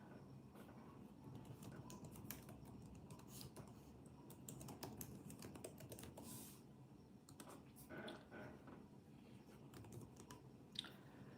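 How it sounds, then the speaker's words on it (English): Faint, irregular clicking of a computer keyboard being typed on, steady bursts of keystrokes over a quiet room background with no talking. "I think you're typing, Mina"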